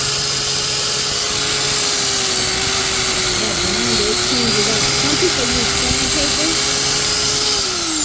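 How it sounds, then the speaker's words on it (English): An angle grinder whines loudly and continuously at close range as it cleans the brake hub mating surface on a Ram 3500, while someone talks over it. "Some people use sandpaper, but I prefer just to use the grinder"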